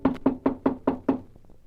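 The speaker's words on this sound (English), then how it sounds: "when the knock came at the door" Six firm knocks on a wooden door in an old-time radio crime drama, evenly spaced and close, sounding alone with no voices.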